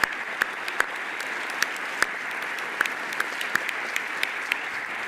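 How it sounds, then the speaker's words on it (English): Steady audience applause fills the room at a Rotary Club luncheon honoring San Diego civic icon Patty Roscoe, with dense continuous clapping and a few sharper individual claps standing out, holding at an even level throughout. "Give a round of applause for Patty."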